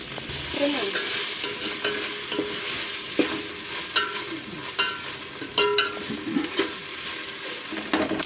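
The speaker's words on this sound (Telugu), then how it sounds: "ఈ అల్లం వెల్లుల్లి పేస్ట్ పచ్చివాసన పోయే వరకు వేపాలి" Ginger garlic paste fries in a pan for a prawn fry piece biryani, giving a steady close sizzle with repeated scraping stirs and sharp spoon clicks throughout.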